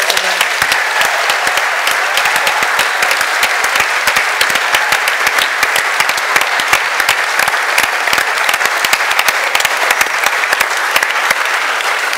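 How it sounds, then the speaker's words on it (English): A sustained round of applause from an audience at a livestreamed talk, dense and even clapping holding at a steady loud level the whole time with no speech over it. "can we just give a Maribyrnong round of applause to Linda Burney?"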